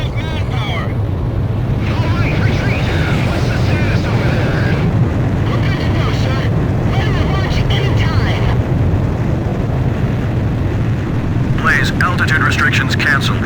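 A fighter jet takes off in Ace Combat 5: The Unsung War, a loud continuous low engine roar and rushing wind filling the whole stretch, with radio voices talking over it.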